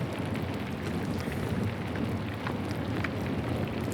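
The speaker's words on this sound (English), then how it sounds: "God, give me the strength to endure the rain." Steady rain falls in a medieval village in the game Pentiment, a dense, even rushing patter with a low rumbling undertone that holds constant throughout, with no voices over it.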